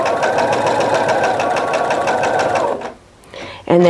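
A sewing machine stitches a quarter-inch seam joining quilt binding strips with a steady, loud, rapid mechanical whir that stops near the end, followed by a brief voice.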